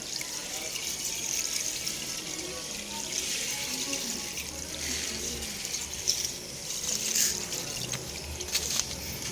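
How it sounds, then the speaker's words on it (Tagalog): Bubble buster cleaning liquid is poured in a circle, giving a steady close liquid trickle and splash that runs continuously for several seconds without talking. "Ibuhos siya ng paikot."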